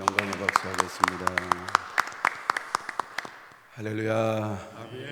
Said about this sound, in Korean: 하나님 앞에 영광의 박수하겠습니다.